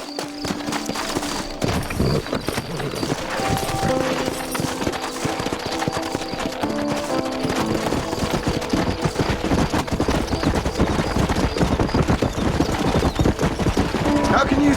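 Hooves pound in a rapid, continuous galloping rhythm, loud and close, with scattered bursts of gunfire and faint voices mixed in, in the video game Red Dead Redemption.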